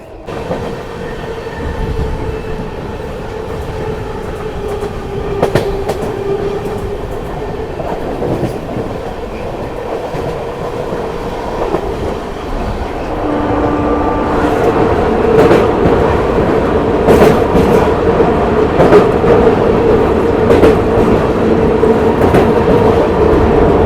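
The Tejas Rajdhani Express rolls along Indian railway tracks at slow speed past small stations, giving a continuous loud rumble with rhythmic wheel clicks and occasional sharp clacks, growing slightly louder partway through.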